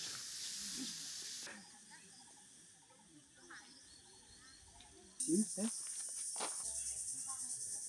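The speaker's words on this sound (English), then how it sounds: "All the crickets, I think it is." Constant high-pitched cricket chirring fills the background like a jungle chorus at Mỹ Sơn Sanctuary in Vietnam, with scattered nearby voices and rustling underneath.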